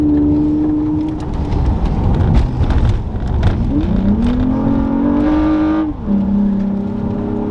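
A car on Michelin Pilot Sport 4S tires revs and climbs in pitch as it accelerates, dips, then pulls hard again through a turn, loud and close with tire and road noise.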